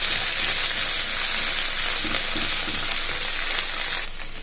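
Cooled cooked rice sizzles and fries in a hot pan for peanut rice, a steady loud hiss with faint stirring scrapes, no voices over it.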